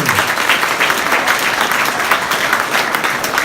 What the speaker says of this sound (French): Merci pour vos applaudissements, Françoise Duhal